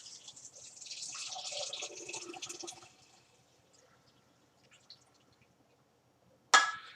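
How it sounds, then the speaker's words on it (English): Broth pours into a crock pot in a soft, bubbling splash for about three seconds, then quiet with a few faint drips and a sharp clunk at the end. "so just put the broth in here."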